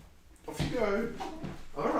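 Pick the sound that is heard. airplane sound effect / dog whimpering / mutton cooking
dog whimpering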